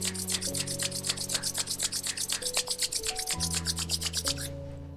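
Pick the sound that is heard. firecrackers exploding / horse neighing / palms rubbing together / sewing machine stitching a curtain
palms rubbing together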